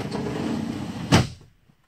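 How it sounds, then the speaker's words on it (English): A bathroom shower door sliding and then closing with a short thump, after a stretch of rolling, rumbling movement, then quiet. "This is how the shower door works."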